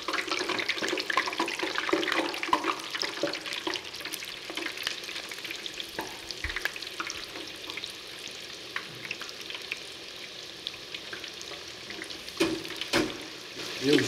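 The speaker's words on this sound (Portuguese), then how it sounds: "vamos colocar os canudinhos para fritar" Cannoli shells fry in hot oil with a constant bubbling hiss that is loud at first and then settles, with occasional clinks and knocks from handling them in the pot.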